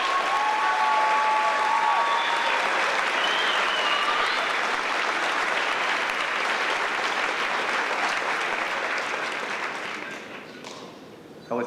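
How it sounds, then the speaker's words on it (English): Sustained loud applause from a large crowd honoring the class of 2006 graduates at a Sachem graduation ceremony, steady clapping that thins and fades toward the end, with scattered cheers. "Congratulations and a big round of applause for our 2006 graduates."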